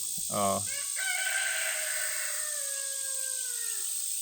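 A rooster crows nearby in a hot garden, a long stretched call that trails off, with a brief clucking start and steady background hiss.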